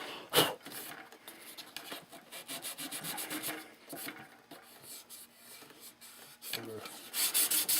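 Repeated rubbing strokes of fine 400-grit sandpaper on a model airplane elevator, close by and steady, with a few sharper scuffs and no talking.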